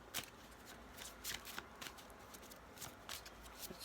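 Playing cards being shuffled, a run of quick crisp riffling bursts and soft slaps, fairly quiet and close, with no voices.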